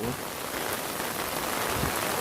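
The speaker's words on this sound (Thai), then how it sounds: "วันนี้ฝนตกเยอะนะครับเฉพาะวันนี้นะ" Heavy rain pours steadily beside a flooded pond in rural Thailand, a dense, loud, unbroken hiss with no break throughout.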